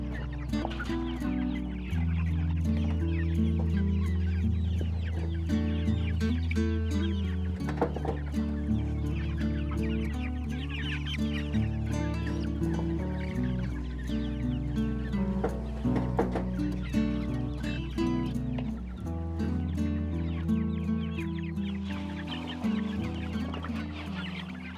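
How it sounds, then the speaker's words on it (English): A flock of Cornish Cross and Buff Orpington meat chickens clucks and murmurs continuously at close range, with overlapping soft calls and occasional louder squawks throughout. "I'm out here with our chickens, our meat chickens that we're raising. We have a mixture of Cornish Cross and Buff"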